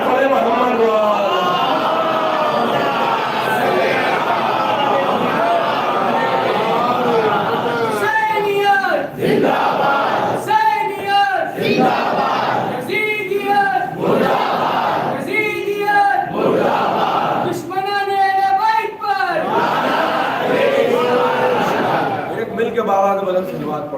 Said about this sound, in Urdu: صلوات پڑھے محمد